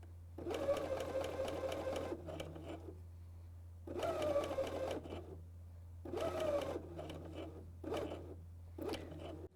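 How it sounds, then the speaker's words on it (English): A BERNINA L 660 overlocker sews a stretchy seam in three close, loud bursts of rapid mechanical whirring, separated by short pauses and a few softer handling noises, with a steady low hum underneath throughout. "I sew approx 3 stitches over the first stitches."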